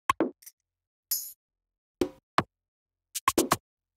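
UK garage percussion pattern of rim shot, tambourine, conga and shaker, heard as sparse, quiet clicks, knocks and bright jingles scattered unevenly with gaps of silence between hits.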